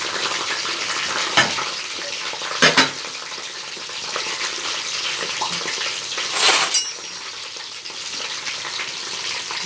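Sliced eggplant, soaked in salted water, fries in oil with a continuous crackling sizzle and several louder bursts of spatter along the way; no voices are heard.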